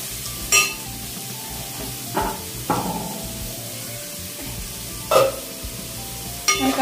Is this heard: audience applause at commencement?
no